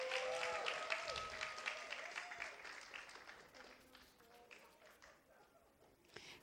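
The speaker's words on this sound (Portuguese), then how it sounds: "Salvas de palmas" Enthusiastic applause from a crowd at the opening of a national voice conference in Brazil, dense clapping that gradually thins out and fades, with faint voices mixed in.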